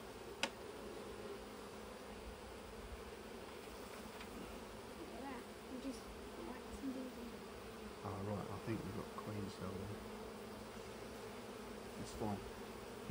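Honey bees buzz steadily around an open hive during a beekeeping inspection in the UK, a continuous low drone with a few brief louder passes, with no talk over it.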